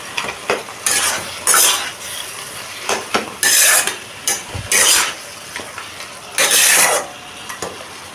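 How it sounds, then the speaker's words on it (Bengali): Bottle gourd and fish head frying with spices in a pan, stirred in repeated bursts of scraping and sizzling, the utensil clattering against the metal close up, with no talk. "মাছের মাথার সাথে লাউয়ের সাথে মশলাগুলোকে আমি ভালো করে কষিয়ে"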